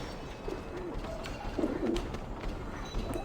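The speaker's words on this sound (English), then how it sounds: "A coop is really just a cage, but the birds don't seem to mind." Pigeons cooing inside a coop in the game Alice: Madness Returns, soft repeated throaty coos at moderate distance over a steady ambient background, with no talking.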